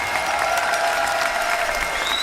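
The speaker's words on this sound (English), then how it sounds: "Let's give Larry a round of applause." Audience at a political town hall breaks into steady, sustained applause, dense clapping filling the room throughout with no speech over it.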